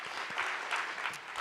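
Brief round of audience applause at a Mother's Day awards ceremony honoring outstanding mothers, dense clapping throughout with a few louder bursts.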